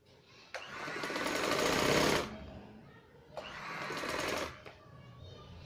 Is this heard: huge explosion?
no